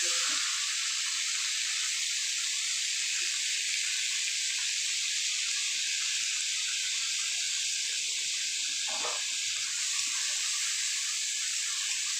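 Chopped onions frying in hot oil for a chitol fish curry give off a steady, even sizzle that holds at the same level throughout, with a faint clink or two and no voices.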